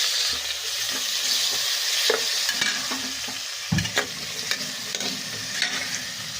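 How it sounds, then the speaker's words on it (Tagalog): Ginger, onion and tomato sautéing in a pan, giving a continuous close sizzle broken by scraping stirs and a few sharp utensil knocks, with no voices. "Yan, nagigisa muna akong luya para matanggal yung lansa."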